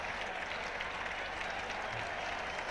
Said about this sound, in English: So that's about the biggest cheer of the day